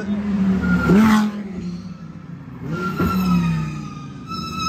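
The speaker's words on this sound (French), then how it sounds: "Là tu les GT3 qui arrivent" GT3 race cars passing at the Spa circuit: two loud engine sweeps rise and fall as cars go by in turn, with a fainter whine trailing off and a crowd or voice murmuring underneath.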